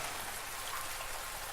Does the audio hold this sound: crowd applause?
no